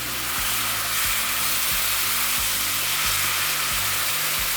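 A pan hisses loudly and steadily as milk and stock are poured in and stirred, with faint scraping in the background under the broad sizzle.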